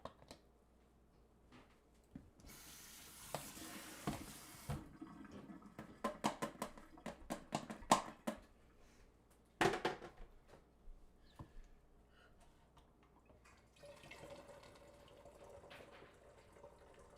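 Film stabilizer poured through a funnel into a developing tank for 120 roll film, a soft splashing trickle with scattered clicks and taps of plastic, then a quieter foamy fizz near the end.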